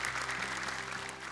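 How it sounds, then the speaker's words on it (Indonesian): A short burst of audience applause for a religious speaker at an Indonesian Quran recitation challenge show, steady and moderately loud throughout with no voices standing out. "Tepuk tangan untuk Ustadz Latif."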